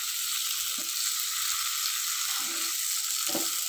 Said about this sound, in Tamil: நெய்யில் வறுத்துக்கோங்க. அப்படி இல்லைன்னா ஆயிலையும் வறுத்துக்கலாம்